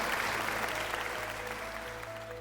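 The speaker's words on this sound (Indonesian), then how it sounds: "Tepuk tangan untuk warga Sumatera." An audience at a public forum on interfaith harmony in South Sumatra claps steadily, a dense, even wash of applause from many hands, moderately loud and easing slightly toward the end.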